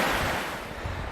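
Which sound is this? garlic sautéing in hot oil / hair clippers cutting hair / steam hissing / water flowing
water flowing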